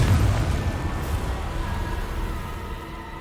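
The Confringo blasting spell explodes in Hogwarts Legacy, a loud low rumbling boom at the start that fades into a long, steady roar of game noise.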